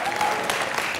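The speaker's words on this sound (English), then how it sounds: "In fact, it deserves an applause." A short burst of audience applause at a science-for-peace talk, dense and steady, many hands clapping at once.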